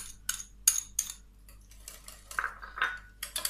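A utensil mixing yogurt batter for a liquid tuna pizza in a bowl, with bursts of bright metallic clinks and scrapes against the bowl, close and irregular, separated by brief quiet gaps.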